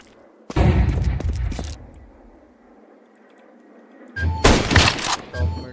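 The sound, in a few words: flashbang grenade thrown in video game Counter-Strike 2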